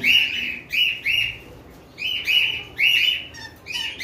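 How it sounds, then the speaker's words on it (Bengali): A pair of conure parrots give loud, shrill calls in repeated short bursts, nearly a call every half second, close and clear with no talking. "এখানে এক জোড়া কোনোর পাখি রয়েছে"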